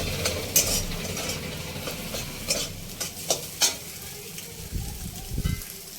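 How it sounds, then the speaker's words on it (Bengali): Egg frying in a pan for a pointed gourd (potol) and egg dish, heard as a low steady sizzle with a few sharp clinks and scrapes of a utensil stirring, close up and without talk. "এবারে ডিমটা ভাজা হয়ে গেছে, নামিয়ে নেবো।"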